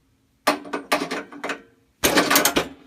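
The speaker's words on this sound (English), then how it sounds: "So I gotta put the bearings on." Bearings being fitted onto the secondary shaft of an old 13HP go-kart make short bursts of metallic clattering and tapping, close by, separated by brief pauses.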